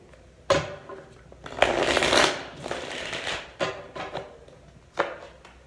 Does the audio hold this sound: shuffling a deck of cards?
yes